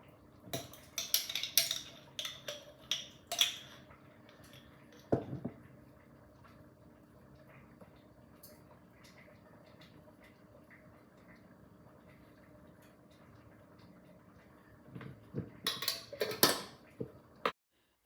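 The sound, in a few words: knife chopping onions, sped up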